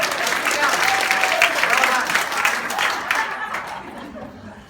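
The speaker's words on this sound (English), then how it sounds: "Give yourself a clap." Conference audience at an executive and personal assistant event breaking into applause, a dense wash of many hands clapping with some chuckles, steady then fading toward the end.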